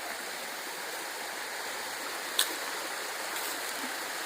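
Steady, continuous rush of a flowing stream, close and even, with one brief sharp click partway through.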